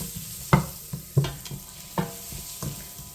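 Toasted spices for a Durban curry being stirred through in a pan, a series of about six distinct knocks and scrapes of the spoon at an uneven pace over a soft background sizzle.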